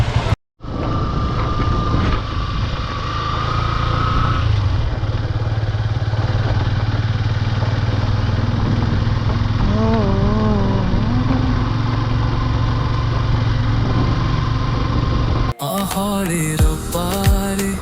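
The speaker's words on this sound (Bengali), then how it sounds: "অবশেষে বাইকটা বের করতে পারছে" A motorcycle engine runs at a steady, loud idle on a beach at Kuakata, droning continuously with slight shifts in pitch, then cuts off abruptly near the end.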